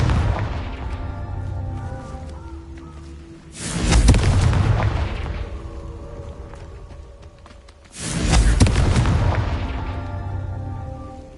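Confringo fire spell blasts in Hogwarts Legacy on PS5: two loud booming explosions several seconds apart, each with a deep rumbling tail that fades slowly under continuous game ambience.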